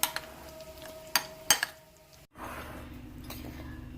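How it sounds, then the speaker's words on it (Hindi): Burger ingredients being mixed with salt in a bowl, heard as a few sharp clinks and scrapes of a utensil against the dish, close and fairly faint, with no talking. "अब हम इसे मिक्स करेंगे।"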